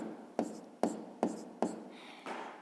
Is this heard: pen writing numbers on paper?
yes